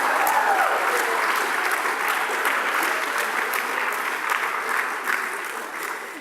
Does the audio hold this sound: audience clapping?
yes